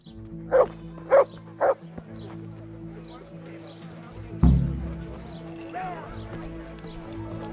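A dog in the medieval video game Kingdom Come: Deliverance gives three sharp, evenly spaced barks. A heavy thud follows, then quieter game ambience with a low tonal background.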